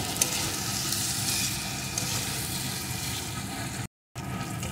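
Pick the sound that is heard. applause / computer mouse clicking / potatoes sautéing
potatoes sautéing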